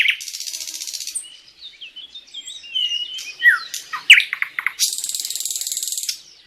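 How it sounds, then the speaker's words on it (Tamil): Small marsh prinias and small grass prinias sing at dawn in windy weather, giving bursts of buzzy, repeated trills and sharp chirps and tweets, close and clear, with brief pauses between phrases. "சிறிய சதுப்பு நில கதிர்குருவியும் சிறிய புல் கதிர்குருவியும் சீக்கிரமாகவே பாடத் தொடங்குகின்றன."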